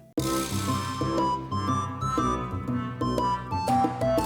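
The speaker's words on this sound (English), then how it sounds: "Finally, I bring back the recorder for this weird," Simple video game soundtrack with an off-kilter recorder lead over steady chords and a bass line, playing continuously and fairly loud with a rhythmic pulse throughout.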